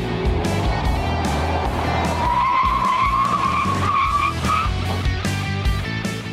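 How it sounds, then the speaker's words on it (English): A 2020 Ford F-150 XLT pickup built into a sport truck brakes hard, and its tires skid with a loud, sustained squeal over steady road and engine noise. The squeal rises and wavers for several seconds, then fades. No one speaks. "You want to do braking? Yeah, let's do braking."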